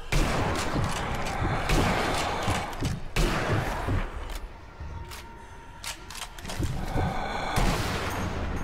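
Gunfire in the video game Zombie Army Trilogy, Berlin Horror cathedral level: rapid volleys of loud shots overlapping into dense bursts with brief gaps, close and continuous for several seconds.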